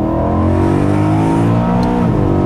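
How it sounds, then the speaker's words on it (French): A naturally aspirated BMW M3 E92 engine drives along a small, demanding road, a loud, steady harmonic drone whose pitch shifts slightly as revs change, continuous and close throughout. "Le son de l'atmosphérique, c'est juste fabuleux"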